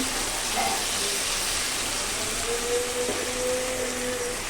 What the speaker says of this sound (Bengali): মশলাটা ভালো করে কষাতে হবে আমি ভালো করে কষিয়ে নিচ্ছি